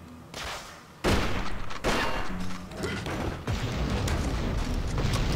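Gunfire in the video game Red Dead Revolver, a dense run of loud, close shots and heavy booming thuds that keeps going without pause.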